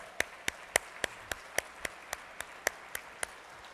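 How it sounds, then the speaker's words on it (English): Audience at a retail supply chain conference keynote clapping in slow, evenly spaced claps, about a dozen sharp hits over a few seconds, fairly faint and with no talk over it. "give yourself a round of applause"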